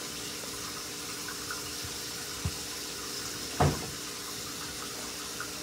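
A kitchen tap runs steadily while food for homemade baby food is washed beneath it, a constant faint water hiss broken by a few soft knocks and splashes, with no talking.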